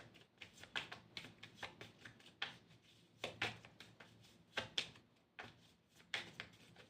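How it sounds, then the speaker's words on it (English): Tarot cards being shuffled by hand, a quiet, close series of crisp riffling bursts in an irregular rhythm, each flurry brief and papery with short pauses between. "I'm shuffling again because there's one."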